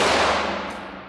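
A Ruger 5.7 pistol fires one loud, sharp shot whose ringing tail fades quickly, with no other sound around it.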